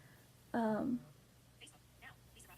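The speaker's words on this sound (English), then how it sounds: "Sorry, my phone's talking." A phone's speaker briefly talks aloud, a short loud burst of tinny synthesized voice near the microphone, followed by quieter faint sounds in a room.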